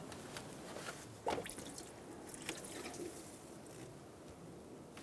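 Coolant drips and trickles from a removed thermostat hose on a 2012-2020 Chevrolet Sonic 1.8L L4 into a collection bucket: faint, scattered wet drips and a small splash, quiet and close, with no talk.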